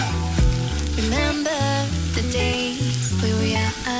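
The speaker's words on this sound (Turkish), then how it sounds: "Kadayıflarımız tereyağını emene kadar kavuruyoruz arkadaşlar." Shredded kadayif pastry toasting in butter over low heat for Dubai chocolate, a steady buttery sizzle running beneath loud melodic background music.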